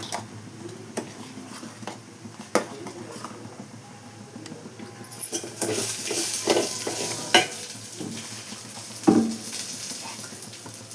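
Sugar being stirred into food in a cooking pot, soft scraping and stirring strokes with faint sizzling, quiet at first and then louder and busier in the second half, with occasional sharper knocks.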